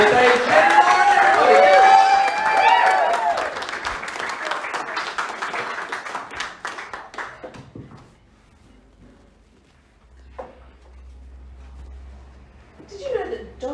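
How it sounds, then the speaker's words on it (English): Comedy club crowd applauding and cheering as a stand-up comic is welcomed to the stage, loud at first then fading away over several seconds into near silence. "Start to applause."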